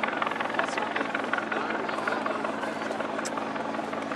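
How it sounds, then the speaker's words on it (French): Helicopters fly over Sainte-Thérèse during a police deployment at a college, giving a steady, dense rotor and engine drone that fills the whole stretch at an even level with no breaks. "Toujours plein d'hélicos qui volent dans le ciel."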